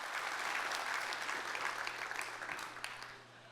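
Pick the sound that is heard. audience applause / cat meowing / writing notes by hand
audience applause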